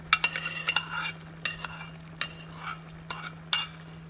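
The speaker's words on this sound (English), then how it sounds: "So I'm putting my asparagus," A spoon stirs asparagus into lemon risotto in a pan, producing scattered close scraping and clinking strokes over a soft, simmering sizzle, with no voices.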